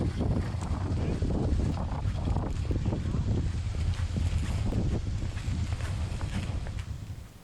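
Strong wind buffets a campsite in Ajaccio, Corsica, with continuous loud roaring gusts and microphone wind noise throughout, plus faint scattered knocks.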